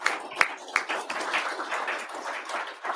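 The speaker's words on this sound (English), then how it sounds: "All right, another round of applause, please." Audience applause at an AUSA coffee series event with Army leaders, a steady wash of many hands clapping at moderate distance, with a few sharper claps standing out near the start.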